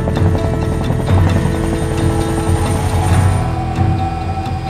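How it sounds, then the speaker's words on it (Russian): A helicopter arrives at a mountain hunting camp used for snow sheep hunting, its rotor thumping in a steady rapid beat over a continuous turbine whine, close and loud throughout. "Вертолет был на следующий день, в 8:40 утра."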